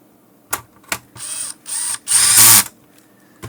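A screwdriver drives small screws into a numeric keypad for a 3M XT-1 drive-thru wireless intercom, with sharp clicks followed by short bursts of whirring, each run longer and louder than the last.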